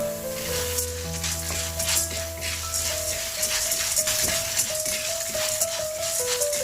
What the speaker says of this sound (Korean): 이렇게 해서 한 15분 정도 볶아줍니다